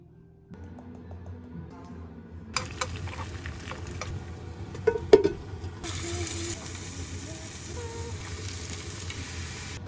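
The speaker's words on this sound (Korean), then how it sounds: "버섯을 구워 먹을 거야." Mushrooms salted and frying in a pan at home sizzle and crackle after a quiet start, louder once the pan is stirred, with scrapes and clinks close by and no talking.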